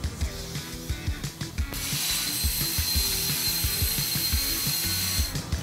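An industrial plasma cutting machine runs a bevel cut test, its drive ticking in a steady mechanical rhythm before a loud continuous hiss of the cutting arc takes over alongside the clicking.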